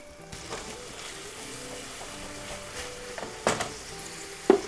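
Mentsuyu hits a hot pan of softened, translucent onions and crispy bacon bits for a pasta sauce, giving a soft, steady sizzle with a couple of sharper pops and clatters near the end.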